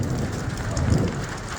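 Rain falls steadily outdoors during a downpour that has left standing water pooled around a rural yard, making a continuous, fairly loud broadband hiss with no voices.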